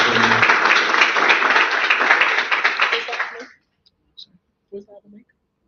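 Conference audience applause, a dense burst of clapping that starts loud, fades out after about three seconds and gives way to near silence with a few stray clicks and faint voices.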